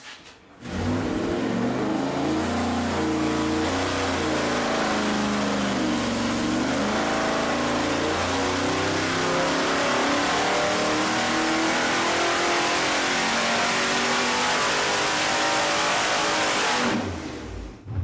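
A car engine fitted with individually tuned, unrestricted exhaust pipes revs loudly and steadily for about sixteen seconds, its deep rumble rising and falling through repeated throttle blips before cutting off abruptly, with no talking.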